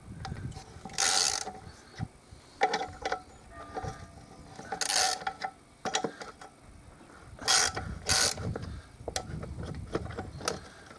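A ratchet loosens the four top bolts on an air compressor's cylinder head, giving bursts of rapid close clicking separated by pauses and metallic handling of parts, with no voices.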